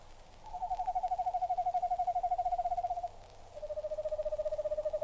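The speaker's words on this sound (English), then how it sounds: "The quavering call of the screech owl is usually a night sound" An eastern screech owl's quavering, tremulous call rises twice, a long trilling note followed by a slightly lower one, clear against a quiet background.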